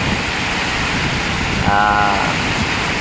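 Steady broadband roar of strong gusty wind buffeting the microphone in Masbate, loud and constant, with a short voice briefly heard partway through.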